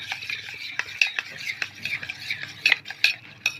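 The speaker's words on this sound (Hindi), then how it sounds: "शहद डाल के अब इसे भी हम मिक्स करेंगे अच्छे से" A spoon stirs honey into panchamrit in a vessel, making quick, light, close clinks and scrapes in an irregular rhythm.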